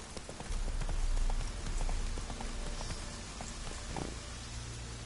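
Hooves of a ridden horse clip-clop in a steady walking rhythm at close range, with faint rustling behind them and no talk.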